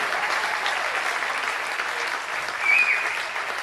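Sustained applause from a large crowd at a university soccer event, steady clapping throughout with a brief swell near the end.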